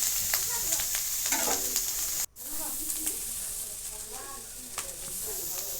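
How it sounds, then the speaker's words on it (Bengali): Mushrooms sizzling and frying in a wok, stirred with repeated scraping strokes over a continuous close hiss, their moisture cooking off. "কড়াইতে সময় দিয়ে নাড়াচাড়া করতে হবে। নাড়তে হবে খুব সুন্দরভাবে।"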